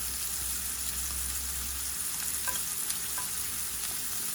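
Steak tips sear in a very hot pan with a steady, close sizzle and crackle that runs the whole time, with a faint hum underneath and a few small clinks toward the end.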